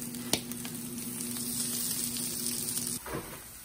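Canned-salmon patties fry in a pan after being flipped, a soft, steady sizzle with a faint tone underneath, one sharp clatter near the start and a brief shuffle toward the end, fairly quiet and close.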